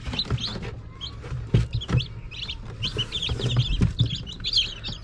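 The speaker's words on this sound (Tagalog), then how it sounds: "So, yan na yung mga sisiw na napisa." Newly hatched chicks fresh from an incubator peeping in rapid, high, overlapping chirps at close range, with soft clucking and handling bumps underneath.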